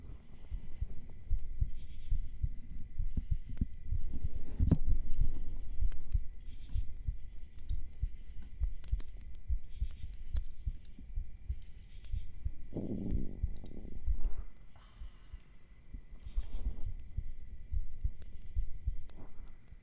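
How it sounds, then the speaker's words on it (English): Heartbeat picked up through a 3Dio binaural microphone: a steady, close, low thumping pulse that repeats throughout, with a soft hum beneath and no talking. "if I fall asleep to my own heartbeat"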